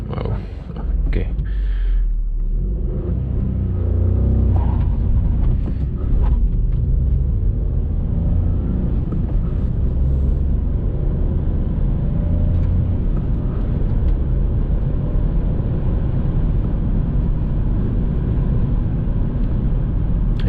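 An Audi A1 30 TFSI with a manual gearbox accelerates hard from 0 to 100 km/h at night, its engine roaring loudly and rising in pitch with heavy low rumble and brief shift breaks near the start.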